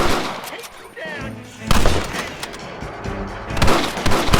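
Gunfire erupts during a bank shootout in Red Dead Redemption on PC. Loud, close shots crack over a continuous din, with shouting voices in the background.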